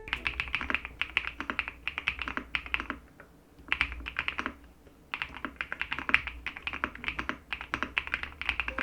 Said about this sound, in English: White switches have a really nice soothing sound to them.